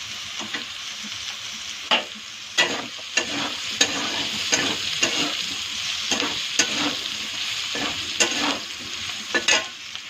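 Potato pieces with turmeric and black cumin seeds frying in a hot pan, a steady sizzle broken by repeated sharp scraping clicks of a spatula stirring, close and fairly loud with no talking.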